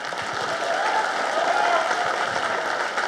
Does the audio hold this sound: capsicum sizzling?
no